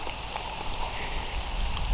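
Steady rain falling outdoors during a trip in search of the northern lights, a continuous broadband patter that holds fairly loud throughout with no talking.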